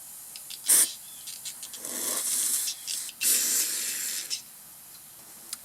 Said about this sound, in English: And what I do is first take some carb spray and just spray it through here.